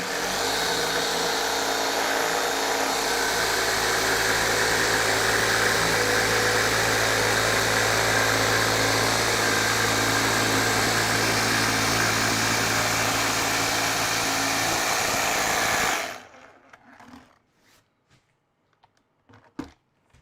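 A power saw makes straight up-and-down cuts in wood for a tongue drum sound board, a loud continuous buzzing drone that stops abruptly, leaving faint clicks and taps.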